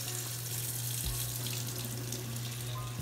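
Steady running tap water streams into a sink as cookie dough is rinsed under it, a close, continuous hiss with a brief splash change partway through and no talking.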